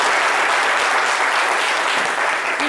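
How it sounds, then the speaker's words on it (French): Studio audience applause on a French midday television talk show, a dense, steady wash of clapping that fills the whole moment loudly and evenly without a break. "Merci beaucoup et on l'applaudit très fort."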